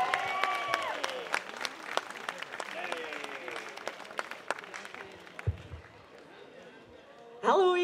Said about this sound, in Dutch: Dames en heren, nu al een bemoedigend applaus voor De Vlinder.